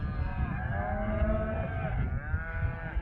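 A herd of cattle, cows with a calf, crossing a ranch road, lowing in long drawn-out moos that overlap, close and loud with no talk.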